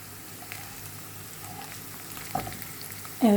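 Onions sauté in a pan for a Turkish wild-greens dish of kaldirik, ısbıt and zilbit, giving a steady soft sizzle at moderate level that ends with a sharp clink.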